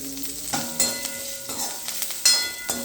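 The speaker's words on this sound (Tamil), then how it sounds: "கருவேப்பிலை எல்லாத்தையும் போட்டு கொஞ்சம் வதக்கலாம். முந்திரி பருப்பையும் போட்டுடலாம்." Curry leaves, cashews and asafoetida sautéing in a pan for murukku upma, a close, sizzling crackle with several quick stirring scrapes and bursts across a few seconds, no one speaking.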